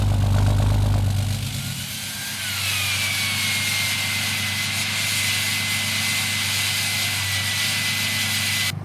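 A pickup truck on 37-inch winter tires idles in snow with its exhaust brake engaged, a loud steady low rumble that dips after a heavier start, with a faint whine running above it and no voices.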